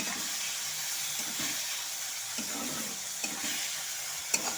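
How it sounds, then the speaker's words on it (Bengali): Potatoes and rice being sautéed with ground spices and a splash of water in a pan, giving a steady low sizzle with soft scraping stirs and occasional light clinks, close and fairly quiet with no talking. "এখন আমি সমস্ত কিছুর সাথে আলু আর চালটাকে"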